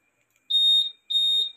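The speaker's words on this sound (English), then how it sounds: "andito na tayo sa setup ng sensitivity alarm" A Honda Click 150i scooter's sensitivity alarm gives two steady high-pitched electronic beeps, each about half a second long, separated by a short pause. They sound clear and close in an otherwise quiet setting.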